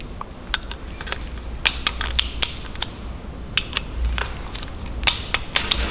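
Bolts on a BMW S54 VANOS unit are tightened to 10 newton metres, giving scattered sharp metallic clicks and ticks at close range over a quiet background, with no speech.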